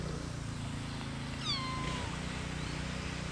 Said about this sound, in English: She was meowing like crazy